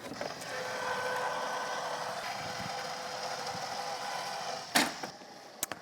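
An AccuQuilt Go Big fabric die cutter being cranked, a steady mechanical grinding and creaking hum with a sharp knock near the end, moderately close and without talk.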